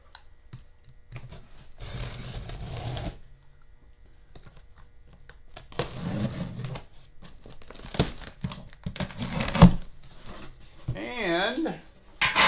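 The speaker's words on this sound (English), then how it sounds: "Let's cut her open and see what's actually in here." A cardboard box of drive train parts, including fender bearings, is cut open and unpacked: bursts of tearing, crinkling and rustling packing material, close by, with a brief voice near the end.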